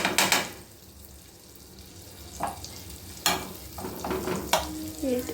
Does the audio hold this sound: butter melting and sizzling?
yes